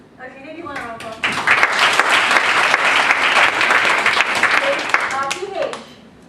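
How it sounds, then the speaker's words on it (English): At an online entrepreneurs summit panel in Malaysia, the audience gives a round of applause, a loud burst of many clapping hands rising quickly, holding steady, then fading, with a speaker talking just before and after. "give one round of applause"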